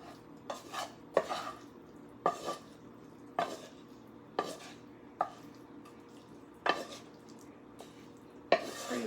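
Cooked vegetables being spooned into a pan for vegetarian stuffed peppers, with sharp intermittent clinks of a utensil against cookware roughly once a second over quiet kitchen background, no talking.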